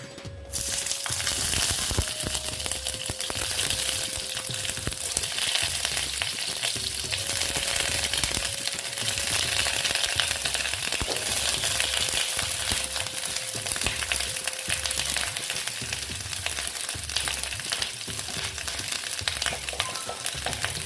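Pieces of pointed gourd (potol) fry in a pan with an unbroken, dense, hissing sizzle that holds steady and close for a long stretch, with faint occasional knocks and no talking.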